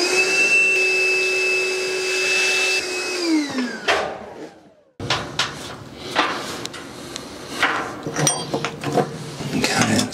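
A vacuum cleaner clears cement dust on a home build site, whining steadily and close for a few seconds before winding down, followed by knocks and shuffling handling noises.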